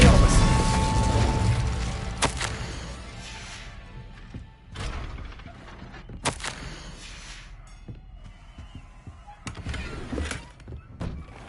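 Confringo and Incendio spells go off in Hogwarts Legacy as a string of sharp magical bursts and thuds, a few loud impacts spaced across the stretch over a rumbling backdrop, with a voice speaking at points.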